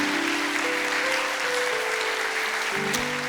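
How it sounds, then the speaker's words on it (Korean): A church congregation claps warmly at an all-generation Parents' Day worship service. The applause is steady and sustained throughout, with a held instrumental tone running faintly underneath. "뜨거운 박수로 격려해 드립시다."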